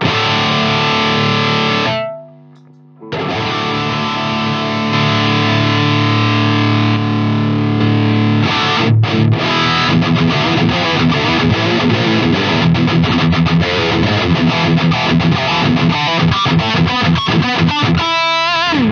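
A Marshall DSL 20 guitar amp with a Boss Blues Driver in its effects loop roars with loud, heavily distorted sustained tones, then cuts out briefly. It returns as a harsh, buzzing, stuttering crackle of overdriven noise.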